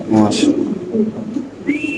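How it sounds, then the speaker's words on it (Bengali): A Spanish pigeon coos close by in a few short throaty bursts, with voices talking in the background. "দেখেন ভাই স্প্যানিশের ডাক দেখেন ভাই"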